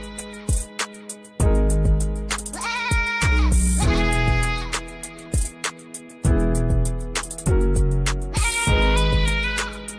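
Goat bleats repeated in loud bursts over a booming rap beat with heavy bass hits, the nasal cries recurring rhythmically throughout.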